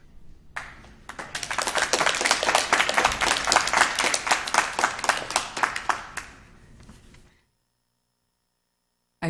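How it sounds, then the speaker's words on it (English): Audience at a Poway school board meeting breaks into sustained applause for a public speaker, dense clapping building quickly, holding steady for several seconds, then thinning out and stopping. "I told them, you better clap when I come up."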